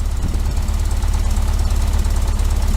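A 1973 VW Super Beetle fitted with a Dellorto FRD 34B carburetor idles fast and steady, its loud, close engine throbbing in an even, continuous rhythm.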